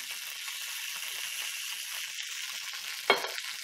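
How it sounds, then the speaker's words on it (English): Olive oil in a hot pan with onions and lime juice, giving a steady, bright sizzle throughout and a small splashy pop near the end, with no voices. "in goes some olive oil"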